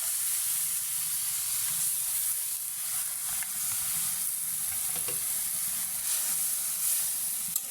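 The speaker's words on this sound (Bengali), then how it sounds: "এখন আমি শাকগুলো এখানে ঢেলে দিলাম।" Jute leaf greens sizzle and fry steadily in a hot pan with turmeric and dried chili powder, a loud continuous crackling hiss that holds evenly throughout with no talking.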